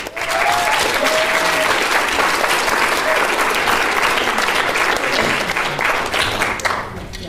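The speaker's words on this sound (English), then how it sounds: "Let's give them a round of applause." An audience at a live blogging challenge claps in a full, steady round of applause that holds at even strength before thinning slightly at the close, with a brief voice briefly audible early on.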